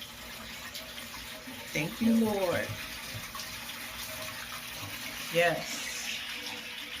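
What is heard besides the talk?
water draining from Hamilton Beach portable washing machine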